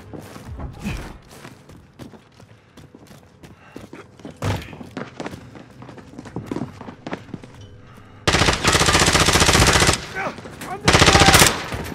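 Call of Duty Warzone gameplay carries scattered footsteps, thumps and distant shots, then bursts of loud, close machine-gun fire in two long sustained volleys near the end.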